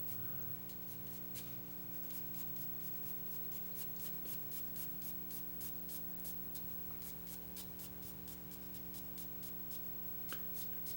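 A dark pencil shades across paper in soft, quiet strokes, a faint, rhythmic scratching repeated steadily under a low background hum.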